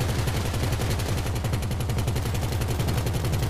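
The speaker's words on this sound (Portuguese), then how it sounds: "Esse carro pelo menos segura bem os tiros, né?" Rapid automatic gunfire rattles steadily and loudly for the whole stretch while bullets strike a car during a video-game mission, with no talk over it.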